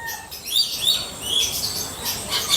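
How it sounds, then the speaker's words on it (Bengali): Various caged birds kept in rows of cages chirp and tweet, bright high calls overlapping in quick repeated bursts, fairly close and steady, with no talking. "খাঁচার দিকে লাইনে লাইনে নানা রকম পাখি ভরা আছে।"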